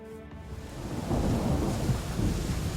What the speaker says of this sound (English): It's raining again! Come on! Why is it always raining?